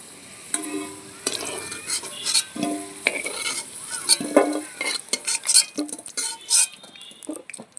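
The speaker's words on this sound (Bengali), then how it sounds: "আমার আলু ভাজা হয়ে গেছে, আমি পুরো লাল লাল করে আলু ভেজেছি।" Potatoes fried in oil in a pan while cooking mutton, with a busy close sizzle under repeated metal stirring scrapes and utensil clinks throughout, and no talking.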